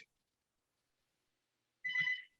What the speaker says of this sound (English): You'll have to pardon the noise in the background. I did not manage to shut down the phone